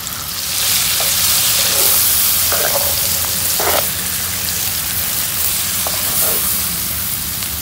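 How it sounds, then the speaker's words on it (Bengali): Dried shrimp with potato, eggplant and vegetable stems sautéing in a pan, a loud continuous crackling sizzle with a few short scraping stirs, close up and without speech. "তো আমি এটা একটু কষিয়ে নিচ্ছি।"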